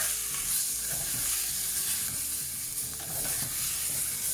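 A Sri Lankan-style spicy chicken curry base sizzles steadily in a pan while being stirred, with a continuous close frying hiss and soft scraping movements.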